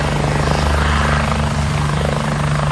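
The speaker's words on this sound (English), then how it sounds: "practicing helicopters landing and taking off" Helicopters practicing landings and takeoffs at West Point give a loud, steady rotor-and-engine drone with a deep thrumming hum. It stays constant and close throughout, and no one talks over it.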